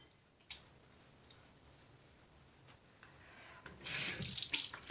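Water running from a bathroom sink tap while someone rinses a cleanser off their face, quiet at first with a few ticks and drips, then a louder splashing gush near the end.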